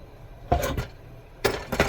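A metal spatula scrapes around the edges of a pumpkin pizza in a cast iron pan, two short scraping bursts close up with a pause between, no talk.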